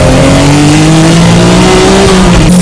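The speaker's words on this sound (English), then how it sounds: "Okamura in the Yashio Factory S15 catches up within range to hunt down Tsuchiya's Nismo GTR." Race cars, a Nissan Silvia S15 and a Nismo GT-R, scream past at full throttle on a circuit, engines loud and close with rising pitch through the gears.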